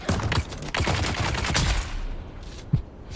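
Rapid gunfire from the sci-fi video game Dune: Awakening, with a cluster of sharp close shots early on, then a quieter stretch punctuated by a final single crack.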